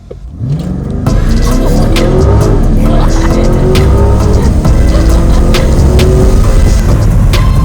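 A Chevrolet C8 Corvette launches hard and loud up close, its engine note climbing steadily through the revs with a brief tire squeal at the start and a sustained roar as it pulls away.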